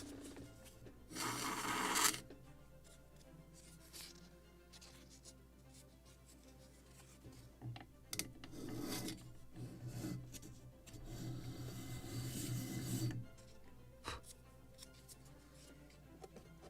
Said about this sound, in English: more sanding right here